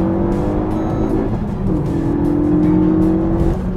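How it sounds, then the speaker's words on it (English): A Honda Civic FD1 fitted with an Akrapovic titanium exhaust accelerates, its engine a loud, close, steady drone that climbs in pitch, rises again after a brief dip and carries on alone with no talk. "with the Akrapovic exhaust fitted, made out of titanium by the way, it also sounds like it's trying to create a black hole underneath the car"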